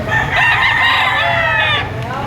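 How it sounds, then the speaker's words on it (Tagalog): A rooster crows loud and close at a chicken market in Padre Garcia, one long drawn-out call lasting about two seconds. "Napakaraming murang manok dito sa Padre Garcia."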